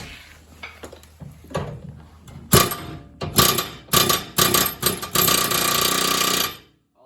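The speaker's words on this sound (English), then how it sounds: "First you don't succeed, more hammer." Hammering in a vehicle workshop comes as a string of loud, irregular mechanical bursts and clattering blows. It ends in a sustained rattling run before cutting off sharply.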